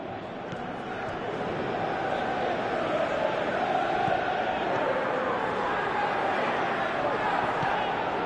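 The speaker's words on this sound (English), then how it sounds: "you can feel and hear how the crowd are reacting to all of this" A dense stadium crowd in the video game Pro Evolution Soccer 2018 roars continuously, a broad swelling murmur that builds slightly and stays loud, with faint commentary underneath.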